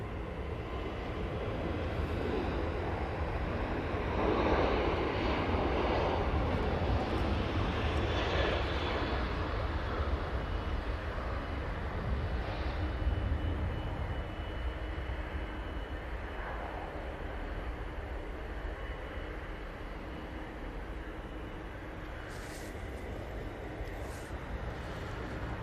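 An Emirates A380 touches down on runway 05 right at Manchester Airport, a broad steady roar of jet engines that swells and then slowly eases, heard from a distance and without talking.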